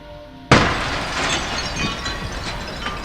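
Cheap public tenement window glass shatters with a sudden loud crash, followed by a few seconds of scattered, tinkling shards settling.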